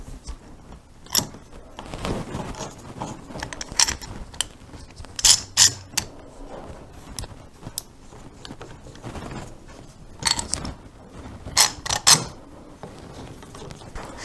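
Clamps being tightened along a scarf joint on a short scale bass neck, working from the middle out, give intermittent ratcheting clicks and creaks in bursts, with sharper clusters spaced through the clip and no talking.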